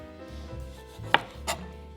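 A sharp knife slices through tomatoes while dip is assembled, giving two quick, crisp cuts, the first a sharp snap and the second a softer stroke, over quiet room hum.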